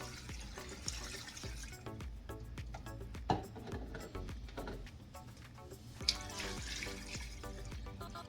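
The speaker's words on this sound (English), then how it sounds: "I'm going to cover them with about 6 cups of water." Water poured from a tap into a cooking pot holding smoked pork neck bones, a continuous splashing and gurgling fill with scattered drips and clinks, fairly quiet and close, no talking.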